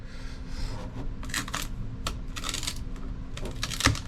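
A part is pried off a scrapped Partner device by hand. Close, dry metallic clicks and ticks of strained components lead up to one sharp snapping crack near the end.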